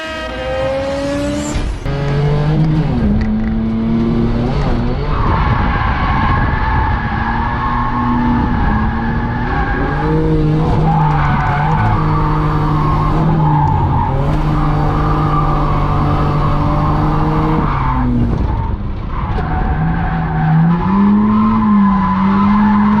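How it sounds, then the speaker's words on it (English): A Vauxhall Omega V6 drifting with its wheels spinning, loud and sustained engine revving with shifting pitch and continuous tire squeal throughout, no talk. "with it having a V6 in it, it was quite torquey, and yeah, it was easy to get the wheels spinning"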